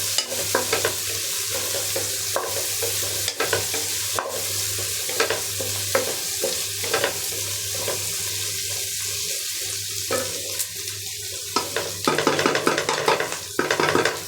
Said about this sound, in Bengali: এই পেঁয়াজ মরিচ গুলা তাড়াতাড়ি ভাজা হবে